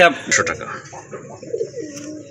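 Pigeons coo close by in a bird collection kept for sale, soft throaty calls with a human voice talking over them.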